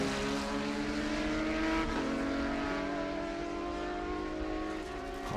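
Race car at a Road America SpeedTour event, engine note rising and falling as it shifts through gears, heard loud and steady without talk.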